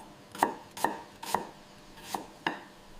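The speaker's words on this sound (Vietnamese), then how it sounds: "Giềng được thái lát mỏng, chuẩn bị cho việc kho cá." A knife slices galangal thinly on a board, five crisp separate chops spaced about half a second apart, close and clear with nothing else heard.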